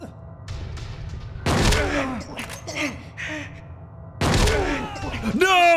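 Enemy gunfire in Silent Hill 2 Enhanced Edition, sharp bursts cutting in twice amid a player's gasps and groans, with the voice loud over the game sounds.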